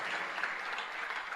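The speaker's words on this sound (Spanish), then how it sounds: "Si va a aplaudir a Jesús, hágalo con fuerza" Church congregation claps in a brief, fairly soft burst of mixed, overlapping hand claps, steady throughout with no voices over it.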